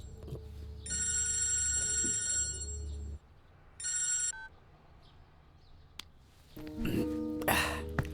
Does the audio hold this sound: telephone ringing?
yes